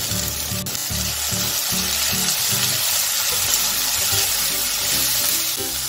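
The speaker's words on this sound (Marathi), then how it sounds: "आता हे सर्व साहित्य थोडंसं वाफवून घेऊया।" Spring roll vegetables, including tomato and spring onion, sizzle and steam steadily in a hot pan, a loud continuous frying hiss with occasional stirring clatter throughout.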